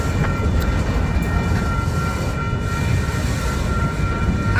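CSX auto rack cars roll past on a long freight train, a loud, steady low rumble and rattle of wheels close by, with faint squeals over the constant roar.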